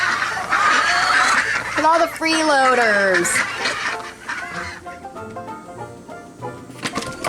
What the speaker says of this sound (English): every freeloading duck in the neighborhood